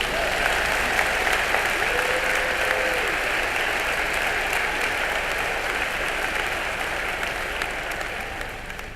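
A large audience claps in dense, sustained applause that holds steady for several seconds and eases off slightly toward the end.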